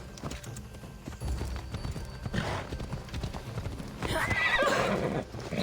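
A horse in Assassin's Creed Odyssey clip-clops along with rhythmic hoofbeats over a cart-track setting, then gives a loud whinny near the end, with steady background ambience.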